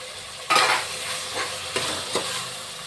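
Onion, ginger-garlic paste and tomato fry in a pan for vegetable pulao, a constant close sizzle broken by a few sharper bursts of stirring every half second or so.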